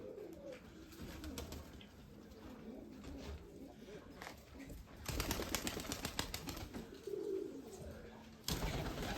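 Soft, low cooing of crested pigeons repeating close by, with occasional wing flutters and faint background noise.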